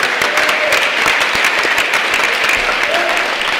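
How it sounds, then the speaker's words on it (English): A crowd at a state office party primary convention applauds the candidates for Associate Justice, a dense, even burst of clapping that fills the whole stretch, with faint voices mixed underneath. "Let's give a quick round of applause for all the people running for Associate Justice number 6."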